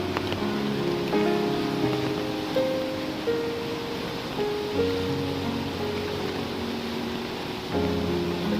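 A river swollen by overnight rain rushes past in a constant broad roar of flowing floodwater, with faint steady tonal hums running under it.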